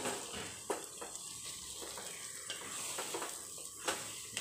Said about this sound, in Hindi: अब इसके अंदर हम लोग गोश्त डालेंगे जो मसाला लगा कर रखा हुआ है, और इसको अच्छे से हम लोग भून कर लेंगे